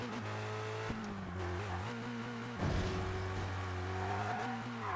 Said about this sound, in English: It's really odd to hear the turbo wastegate chattering away there on downshift.